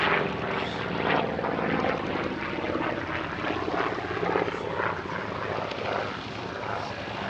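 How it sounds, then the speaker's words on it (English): A Yakovlev Yak-11 piston-engine trainer, a Czechoslovak licence-built example at the Paris-Villaroche airshow, drones steadily with a rough propeller rumble, loud and continuous for several seconds without any talking. "the Yak 11, one of the most heavily used piston engine trainers of its era."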